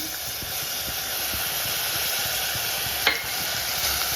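Ground garlic paste frying in hot oil for a garlic pickle gives a steady, close sizzling hiss that holds throughout, with one brief clink of a spoon against the pan near the end.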